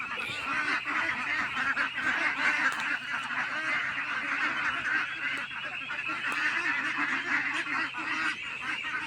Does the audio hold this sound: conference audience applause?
no